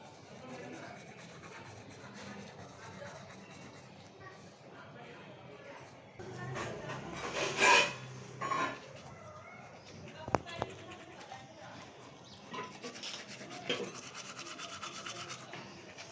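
A toothbrush scrubs teeth with faint, continuous rubbing strokes that swell louder for a few seconds midway, set against quiet background noise and faint voices.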